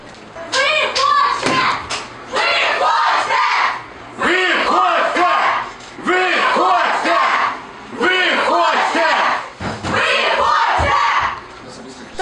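A crowd of theatre actors shouts in rhythmic bursts at an official to leave his office, loud chanted yells repeating every couple of seconds with brief gaps between.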